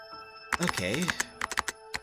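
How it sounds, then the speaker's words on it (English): Keyboard typing sound effect in a visual novel game: a quick run of sharp key clicks with uneven rhythm, close and clear, with a voice speaking over the start. "The sound of Shion striking her keyboard was all that could be heard in this room"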